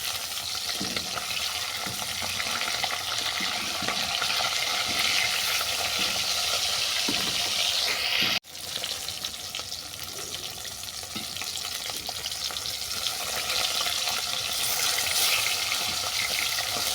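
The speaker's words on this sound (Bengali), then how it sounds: "তেলটা গরম হয়ে গেছে, এরপর মাছটা তুলে দেবো।" Fish frying in a pan of hot oil, a steady dense sizzle that runs loud and continuous near the mic, broken only by a brief dip midway, with faint stirring sounds mixed in.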